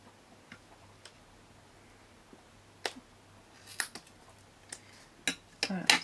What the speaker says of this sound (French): je vais aller chercher des ciseaux que je n'utilise pas pour le papier